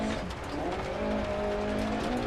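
Rally car in the Dirt Rally game driving steadily over a loose gravel stage, a continuous engine drone with faint tire and gravel noise throughout, loud and close with no voice over it.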